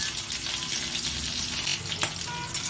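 Mustard seeds, garlic, and dried and green chillies fry in hot oil with a steady, bright sizzle and crackle, plus one sharp pop near the end; no voices.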